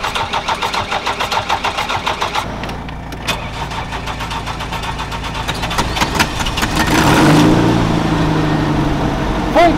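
A car engine cranks with a rapid pulsing starter rhythm, catches and settles into a steady idle, then swells louder as the revs rise and fall back.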